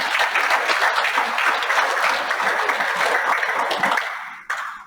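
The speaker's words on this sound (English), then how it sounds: "So I think we should give the DG a applause." Sustained audience applause at an institute's annual retreat, dense and steady for several seconds before thinning out near the end, with a short final burst of claps.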